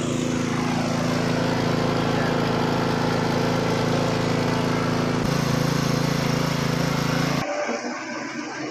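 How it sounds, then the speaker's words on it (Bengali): A generator engine drones loudly and steadily nearby, its pitch dropping slightly midway before the sound cuts off abruptly near the end. "রানিং জেনারেটর আপনাদের দেখাই দিয়েছি আমি, স্টার্ট করে টানে স্টার্ট একদম ক্লিয়ার।"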